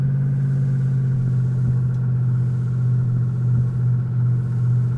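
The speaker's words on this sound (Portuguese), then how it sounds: "Olha o ronco desse carro" Steady, loud engine roar of an off-road race car in the RevHead racing game, a deep constant rumble with a low idling-like drone that holds throughout with small swells.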